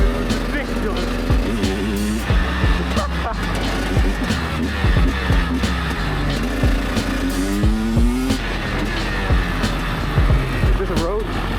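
A 300cc two-stroke motorcycle ridden hard at throttle, its loud, close engine note rising and falling continuously as it revs and shifts, with a raspy buzzing edge throughout.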